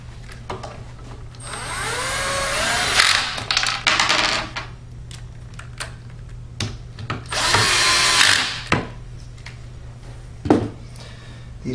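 Bolts being tightened on a Martin Yale 7000E manual paper cutter with a power tool, giving two loud whirring bursts with clicks and clatter in the gaps between them.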